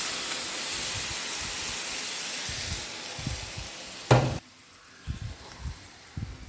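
Water poured into a hot frying pan where small mola fish have been frying sends up a loud, steady hiss, then a sharp burst of sizzle before the sound drops to quieter low knocks.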